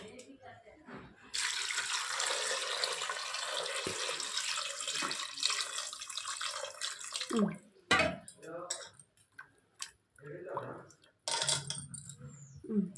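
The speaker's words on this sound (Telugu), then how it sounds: "ఇప్పుడు దీని మొత్తం మునిగే వరకు వాటర్ పోసేసుకోవాలి" Tap water runs steadily into a pot of goat legs for curry, a continuous splashing pour that stops partway, followed by a short second pour, with a person speaking in between.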